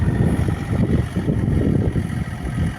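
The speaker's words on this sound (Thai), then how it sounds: "ตอนนี้รถไถกำลังจะลากรถไถนะฮะ อีกคันหนึ่งจมนะครับ" A farm tractor's diesel engine runs steadily and loud with a low rumbling drone while towing another tractor stuck in the mud of a rice field, with no talk over it.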